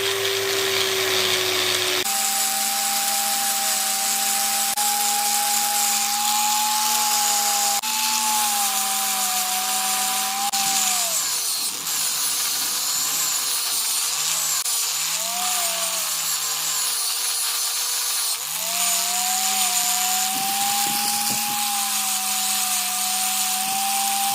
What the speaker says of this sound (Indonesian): Kita langsung poles tahap terakhir ya teman-teman ya.